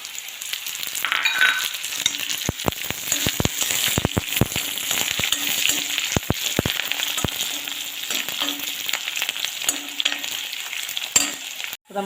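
Curry leaves frying and sizzling in hot oil for an Irumban puli pickle, following green chillies, a steady broadband crackle and hiss with scattered sharp pops, close and continuous throughout, no talking.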